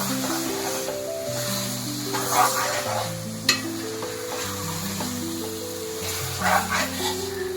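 Country chicken curry sizzles loudly in a pan while a utensil stirs and scrapes through it, with a few brief clinks against the pan over a steady frying hiss; a voice speaks underneath.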